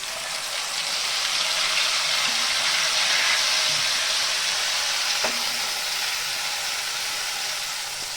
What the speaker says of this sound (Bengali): এখন আদা রসুন পেঁয়াজের পেস্টটা দিয়ে দিব।